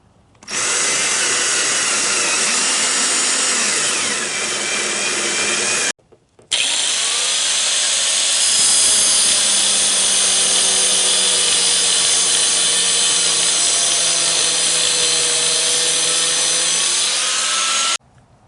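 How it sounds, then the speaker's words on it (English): Power drill boring out a stripped bolt on a Suzuki LT160 ATV, a loud continuous whine that runs steadily, stops briefly around the six-second mark, then resumes with a rising, shifting pitch until the end. "So I gotta go get a drill and drill that out."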